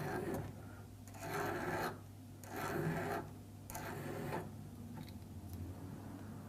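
A file rasps across the point of a fishing hook held against a vise, giving several long strokes with short pauses between them, close and moderately loud, with no talking.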